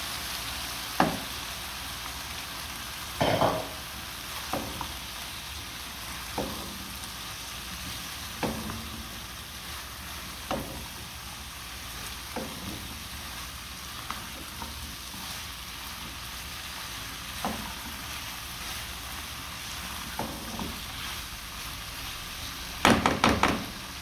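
Vegetables fry in a pan with spice masala, a loud steady sizzle close up, broken by occasional knocks of a spoon against the pan while stirring and a sharper clatter near the end.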